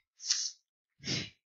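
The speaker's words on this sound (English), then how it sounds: "Sorry, I'm just yawning again." Two breathy yawning exhalations, the first airy and higher, the second longer with a low voiced tone, separated by a short pause and heard close with no other sound around them.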